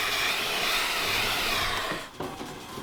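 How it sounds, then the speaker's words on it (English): A vacuum cleaner runs steadily while vacuuming a car's carpet area, a loud continuous broadband whine and rush that dips briefly near the end as the nozzle shifts. "vacuum out your carpet area."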